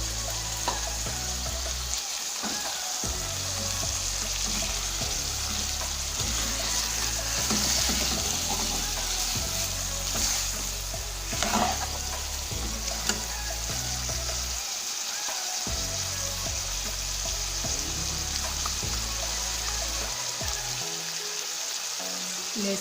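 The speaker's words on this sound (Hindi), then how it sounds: "अब आलू डालेंगे हम और सारे मसाले डाल के इसको पकने देंगे थोड़ा पानी डालकर।" Potatoes with spices and a little water cooking in a pan for aloo salan, a steady soft sizzle and bubbling with occasional stirring scrapes, fairly quiet and continuous.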